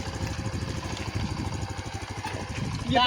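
A motorcycle engine idles steadily nearby with a low, even rumble that continues throughout, no talk.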